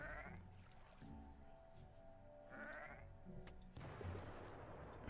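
Two distinct sheep bleats from a video game, one at the start and another midway, sounding clear and game-like over a quiet, steady background.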